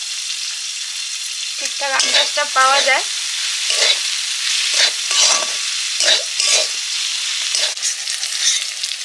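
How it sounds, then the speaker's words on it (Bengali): Greens frying in a pan, a hissing sizzle under a voice talking close by, with stirring clatter between phrases. "শাক ভাজা প্রায় হয়ে এসছে"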